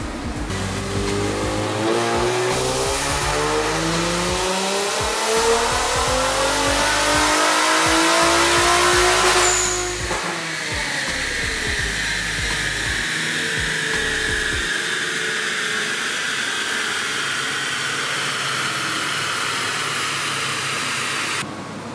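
A turbocharged Infiniti Q60 with big Z1 VRX70 turbos, making over 700 horsepower, revs hard on a dyno: a loud rising engine pull climbs steadily for about ten seconds, then drops off into a sustained high whine and roar.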